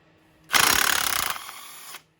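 A half-inch impact wrench hammers loose a bolt on a 2004 Polaris Scrambler 500 in one loud, close, rapid rattling burst of about a second and a half, then cuts off to near silence.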